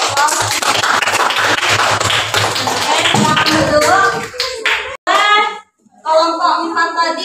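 Classroom applause for a student named Teddy, a burst of clapping and tapping from the class with children's voices mixed in, fading into scattered talk.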